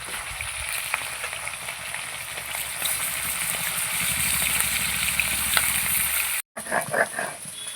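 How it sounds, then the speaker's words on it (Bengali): Small cut pieces of snakehead fish head fry in oil with a loud, steady, close hiss that cuts off abruptly near the end, followed by a few clattering sounds. "শোল মাছের মাথা তো এই জন্য ছোট ছোট টুকরো করে কেটে নিয়েছি। এগুলো ভেজে নেব।"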